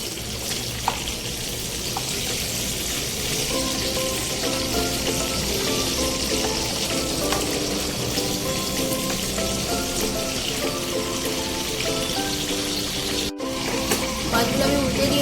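Katla fish pieces sizzle steadily in hot oil in a pan after being turned, a close, continuous crackling frying sound with faint background hum and no talking.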